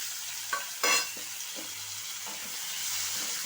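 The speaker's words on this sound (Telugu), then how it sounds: "ఇది వేడైన తర్వాత ఈ తీసి పెట్టుకున్న టమాటా ముక్కలు కట్ చేసి పెట్టుకోవాలి సన్నగా. దీంట్లోకి వేసేయాలి." Thinly chopped tomato pieces frying in hot oil make a loud, steady close sizzle and hiss. A sharp splattering burst comes as they hit the pan, followed by a few scraping stir strokes, with no voices.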